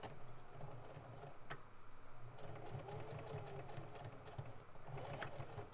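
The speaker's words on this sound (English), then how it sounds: "he's going to sew it right on the edge" Sewing machine stitching along the edge of a fabric face mask, a faint steady rhythmic whir with light ticking throughout, quiet and continuous.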